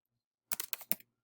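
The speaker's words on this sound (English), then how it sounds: "You're typing into the box here." A brief run of about five quick keystrokes on a computer keyboard, close and soft, with silence before and after.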